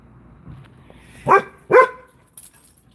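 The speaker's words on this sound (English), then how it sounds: "There they go. Bark, bark." A dog standing on guard gives two loud, sharp barks close to the microphone, about half a second apart, followed by quiet.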